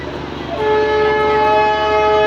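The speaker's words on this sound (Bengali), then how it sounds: "হর্ন বাজাতে বাজাতে ট্রেনটা আমাদের দিকে আসছে" A Darjeeling Himalayan Railway train at Batasia Loop blasts its horn loudly and steadily after a moment of rumbling background noise, a sustained chord holding to the end as the train draws near.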